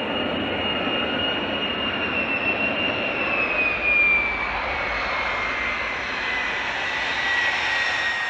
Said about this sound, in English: the Royal Norwegian Air Force landed state-of-the-art F-35A fighters on a highway in Finland